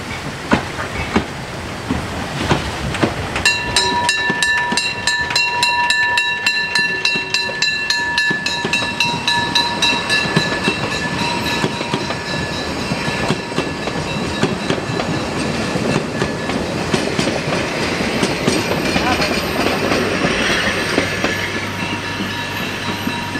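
A train entering Schmalzgrube station on the Preßnitztal narrow-gauge railway rolls along with rhythmic clickety-clack of wheels and screeching metallic squeals, loud and close, continuing steadily throughout.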